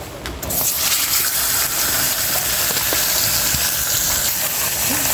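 Fish pieces coated with turmeric and salt dropped into light oil for a village picnic meal, breaking into a loud, steady, close sizzle that holds without pause.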